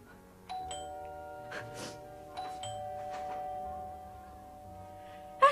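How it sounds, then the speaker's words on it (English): A doorbell rings indoors, a clear chime with long ringing tones sounding twice over quiet room noise, followed by a brief sharp sound at the end. "That's a bell."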